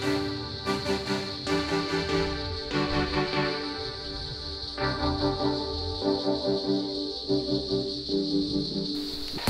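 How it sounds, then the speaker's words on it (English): Cicadas on the Prince Henry Cliff Trail near Katoomba Falls in the Blue Mountains, a steady high-pitched buzzing drone that pulses in repeated waves, heard alone without talking. "You hear the cicadas?"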